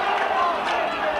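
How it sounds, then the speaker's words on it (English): Rugby league crowd at a 1996 Bradford Bulls versus Halifax match roaring approval for a penalty, a brief loud swell of cheering voices filling the stadium. "The crowd like that one."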